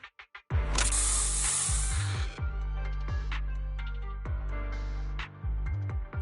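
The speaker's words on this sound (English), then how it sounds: "Here, have a taste of this special bamboo spray." A special bamboo spray attack in the video game Zenless Zone Zero lets out a loud, sustained hissing spray over a deep, booming low rumble, with repeated heavy thuds and swells running through it.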